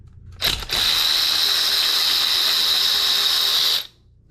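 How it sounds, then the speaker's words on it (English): A power tool whirs steadily for about three seconds, up close and fairly loud, after a short clunk, while the brake caliper comes off an Inmotion RS electric scooter. "take the brake caliper off"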